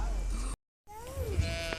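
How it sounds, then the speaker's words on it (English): A goat bleats at Dublin Zoo in a few wavering, rising and falling calls, fairly close, with a brief dropout partway through and people talking nearby. "Goat. Yeah, the goat."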